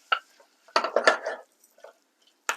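Browning meat for curry is stirred in a pan, giving a few short scraping and clinking strokes of a utensil, close and clear, separated by brief quiet gaps.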